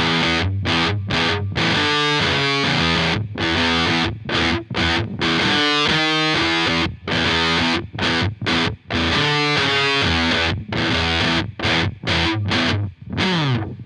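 A heavily distorted electric guitar plays a riff in choppy, punchy bursts separated by sharp silences, loud and upfront with a thick effected tone and no voice over it.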